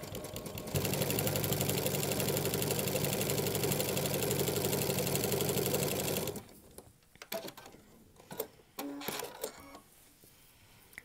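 A sewing machine fitted with a walking foot sews a decorative serpentine stitch, giving a loud, steady, rhythmic whirring clatter for about six seconds, then stopping and leaving scattered small clicks and handling noises.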